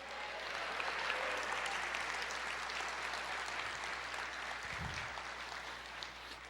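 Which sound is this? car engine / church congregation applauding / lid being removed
church congregation applauding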